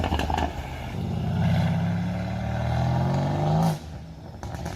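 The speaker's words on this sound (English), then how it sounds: "Burble tunes sound like farts" A car with a burble exhaust tune revs loudly up close and holds a rising engine note for a few seconds, then cuts off sharply into crackling, popping exhaust burble.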